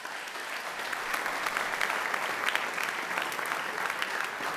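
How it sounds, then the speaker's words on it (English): Sustained applause from an audience honoring college athletic teams at an awards event, steady and dense for several seconds with no talk over it. "let's first give a big round of applause to all of our teams"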